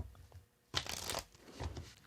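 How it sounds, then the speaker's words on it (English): Tarot cards are shuffled close by in one quick riffling burst, followed by a softer second rustle, faint overall. "So another shuffle, they say"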